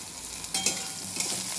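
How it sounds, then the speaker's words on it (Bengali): Pointed gourd (potol) frying in a pan, a steady close sizzle broken by a few sharper scraping stirs, with no voices. "পটলটা আমার ভাজা ভাজা হয়ে এসেছে"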